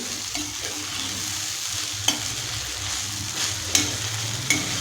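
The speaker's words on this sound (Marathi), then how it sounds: "आता याच्यावरचं झाकण काढूया एकदा हलवून घ्यायची आहे" Steamed sabudana khichdi is stirred in a pan, with a soft steady sizzle and a few sharp scrapes or taps of the spoon at close range.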